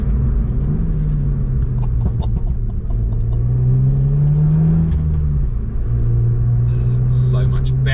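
A Renault Mégane Trophy R hot hatch on overrun while driving gives a deep, rumbling engine drone with shifting pitch, faint crackles and pops, someone talking over it throughout.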